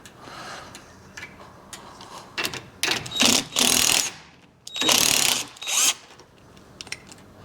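A pneumatic impact wrench on a primary stud of a 1974 Harley-Davidson Superglide FXE Shovelhead, with a hand wrench holding the lower nut: several loud, close rattling bursts in two clusters, separated by brief pauses.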